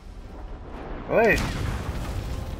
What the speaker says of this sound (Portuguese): aqui é onde vai cair a bomba